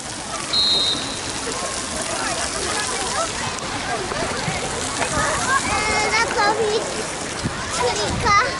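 Continuous splashing and sloshing water fills a municipal swimming pool in Nowa Ruda, Poland, with scattered children's voices calling out in the background.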